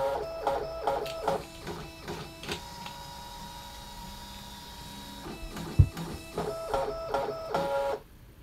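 A DesignNCut cutting machine calibrates its capture mat with whirring motor runs and short mechanical buzzes, pausing into a long steady tone before more jerky carriage movements, close and without talk.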